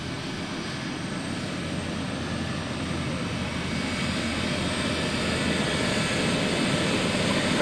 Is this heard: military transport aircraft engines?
yes